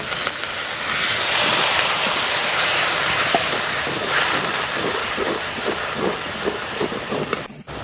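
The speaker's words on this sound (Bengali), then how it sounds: "সামান্য একটু জল দিয়ে দিচ্ছি।" A splash of water hits hot spices, including Kashmiri red chilli powder, in a pan for a pea and gram flour dish, giving a loud, steady steamy hiss close by that fades slightly toward the end.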